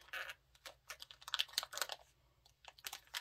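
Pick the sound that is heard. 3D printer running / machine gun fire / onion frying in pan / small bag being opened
small bag being opened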